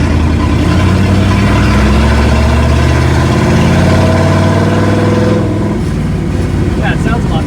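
A Chevrolet Monza's 350 V8 engine idles loudly with a deep, rough, steady rumble, then the tone shifts slightly near the end; talk is mixed in faintly.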